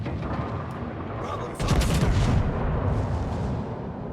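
Warship main guns fire a booming salvo at the battleship Fuso in a naval video game, a heavy rumbling blast that swells midway and lingers over steady engine and sea noise.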